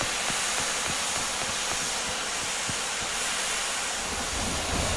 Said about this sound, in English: Quickly! Get on the train!